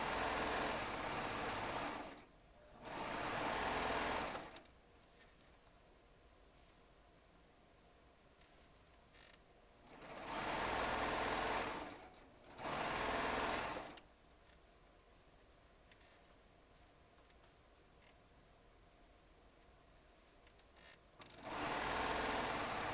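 A Baby Lock Triumph serger runs in three bursts of rapid, whirring stitching, each a few seconds long, separated by quiet pauses with soft room noise.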